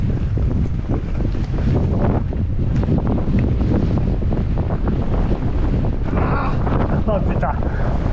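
Strong wind on a mountain bike ride through the hills of Rosas, Spain, roars steadily and loudly across the microphone for the whole stretch, with a faint voice partly buried under the buffeting.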